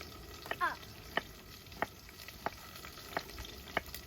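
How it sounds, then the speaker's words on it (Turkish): Soft, steady sizzling of thinly sliced onions frying in a pot at a campsite, with regular light clinks of a utensil stirring against the metal. "Soğanlarımızı piyaz şeklinde ince ince doğrayıp tenceremize atıyoruz."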